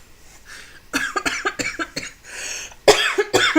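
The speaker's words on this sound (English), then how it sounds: "I release and let go of this cough." A person coughs in a rapid series of harsh, close bursts, a few clustered together, then a louder pair of coughs near the end.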